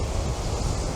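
Strong headwind buffeting the microphone during fly casting, a steady loud rumbling roar of wind noise that fills the whole second with no other sound.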